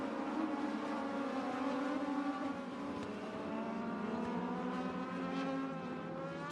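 A race car at Irwindale Speedway roars through turn three on the final lap, its loud engine note rising and falling steadily with other cars droning close behind throughout.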